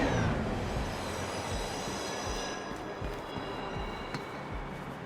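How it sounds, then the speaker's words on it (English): Faint, distant city ambience from the Mirror's Edge video game: trains rumble along with rhythmic wheel clatter and a thin squeal over a steady wash of street traffic, low and continuous with no talk. "You can hear the faint sounds of busy streets, cars, and trains constantly"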